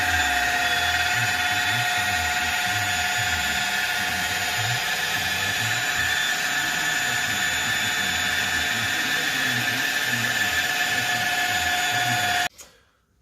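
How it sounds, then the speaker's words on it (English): A machine polisher buffs a mould arch with G3 compound, a loud, steady close-up whir with a constant tonal whine that runs unbroken before cutting off abruptly near the end. "we've been machine polishing the arch with some G3"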